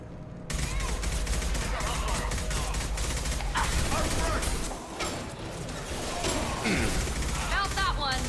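Gunfire from the video game Mass Effect 2, with Blue Suns mercenaries and Vorcha firing, comes as a dense, continuous stream of loud shots and impacts with mechanical clatter, running almost unbroken throughout.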